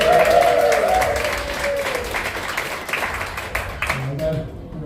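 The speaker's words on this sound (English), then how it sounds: "We get a round of applause for Emma." A live audience gives a round of applause for a woman who recently had a baby, the clapping dense and sustained with voices and cheering mixed in, tapering off near the end.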